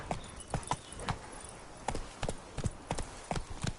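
Horse clip-clopping under a rider in the video game The Witcher 3, a brisk series of hoof knocks in an uneven trotting rhythm, close and clear over a quiet background.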